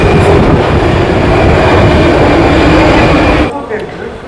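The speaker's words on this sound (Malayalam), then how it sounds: "ഇതാണ് നമ്മുടെ ട്രെയിൻ." A Prague metro train on the blue line pulls into an underground station, a loud, close rumble with rail clatter that cuts off abruptly near the end.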